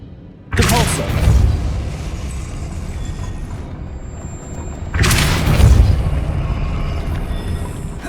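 Depulso spell cast in Hogwarts Legacy, two loud booming bursts a few seconds apart, each with a rushing tail that fades slowly.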